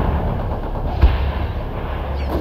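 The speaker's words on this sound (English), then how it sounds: "Mortar is ready. Firing for effect." A single mortar round fired as fire support in the real-time strategy game World in Conflict, one short dull thump over a steady low battlefield rumble.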